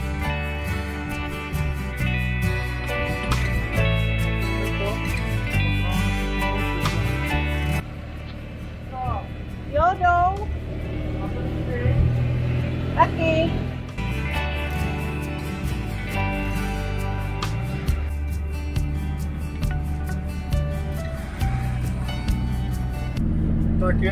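A Škoda 120 car towing a trailer drones along from inside the cabin, with a steady engine hum that shifts pitch as it changes speed, and a voice speaking briefly midway.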